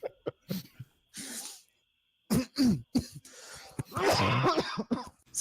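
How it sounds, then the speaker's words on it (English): A person coughs and clears their throat in several short bursts separated by pauses, close and fairly loud, with heavier hacking toward the end. "I still have my cough"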